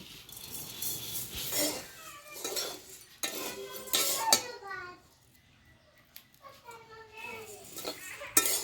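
Puffed rice (muri) being dry-roasted in a home kitchen pan, with repeated metallic scraping and clinking of a spatula against the pan in uneven bursts, while voices, including a child's, murmur in the background.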